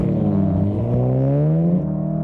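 A loud, deep Volkswagen Golf engine revs up close through an upgraded titanium Akrapovic exhaust, its throaty pitch climbing and holding steady.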